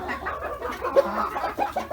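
A rooster clucks and calls up close in a poultry coop, a few short bursts standing out against background chatter from the flock.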